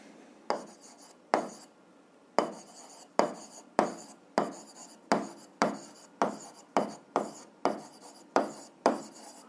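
A pen or pencil writes out an algebra solution on paper in quick bursts of scratching strokes, about a dozen short close scribbles separated by brief pauses, with no talking.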